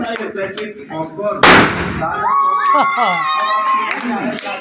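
During Holi a firecracker goes off with a single loud, sharp bang, followed by excited voices and children shouting nearby.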